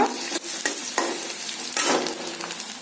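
Close, steady sizzle of onions frying in a pan, broken by repeated scraping stirs, with no one speaking.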